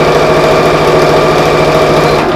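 Sewing machine running continuously as it stitches the fabric lining of a pleated school pencil case, a steady close mechanical hum with a rapid even chatter of needle strokes, no talking.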